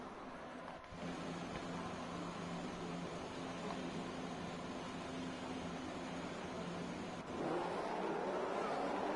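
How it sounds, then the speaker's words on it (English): Formula 1 race cars in a video game at a Brazil race start, a sustained whining engine drone with layered revving pitches, swelling louder near the end as the field gets away. "So as we hear the roars of the engines for the final time"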